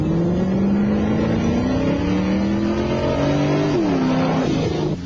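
A car passes at speed, about 61 miles an hour, its engine roaring loud and close throughout, with the pitch sliding downward as it goes by near the end.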